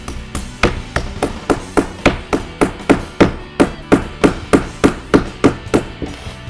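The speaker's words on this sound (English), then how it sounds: "You're going to take a hammer and you're just going to tap it right in." A hammer taps a pin into the oar lock of a one-person frameless boat, about sixteen sharp, evenly spaced metallic strikes heard close and alone.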